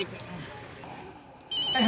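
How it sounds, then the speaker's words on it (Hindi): Telephone ringing indoors in a domestic setting, a brief bright electronic ring that starts abruptly near the end, following a moment of low room noise with faint voices. "बेना का फोन"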